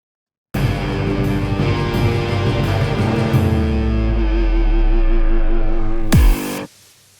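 A distorted neurofunk synth layer plays with its modulation raised, a dense, gritty sustained tone with a pitch falling in the low end. It ends in a sharp bright burst that cuts off abruptly.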